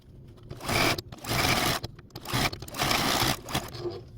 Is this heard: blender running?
no